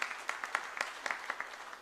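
Audience applause at a regional CMA convention in Bengaluru for the first delegate called to the stage: a steady wash of many hands clapping, with sharper individual claps standing out, no talk.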